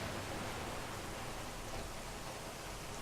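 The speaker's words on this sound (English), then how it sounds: "raining heavier in here than out that door" Heavy rain falling as a steady, dense wash of noise, unbroken and even throughout, with no voices.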